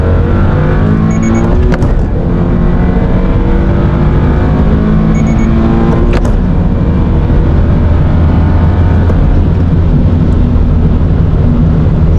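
A 2023 Subaru BRZ with a 2.4-liter four-cylinder boxer engine accelerates hard, its engine note climbing steadily through the gears in a loud, continuous pull heard from inside the car, with no talking.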